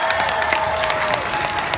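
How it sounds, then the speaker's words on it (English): Loud, dense applause from a crowd at a gaming festival stage in Ireland, continuous clapping throughout. "Round of applause, please, for our YouTubers."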